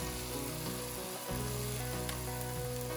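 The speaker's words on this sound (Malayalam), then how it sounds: "പിന്നെ ഇതിലേക്ക് നമുക്ക് നമ്മുടെ ക്രാബ് ഇട്ട് കൊടുക്കാം" Crab pieces hit a hot pan of well-cooked tomatoes for a Kerala-style crab roast, setting off a loud, continuous sizzle that fills the space without pause.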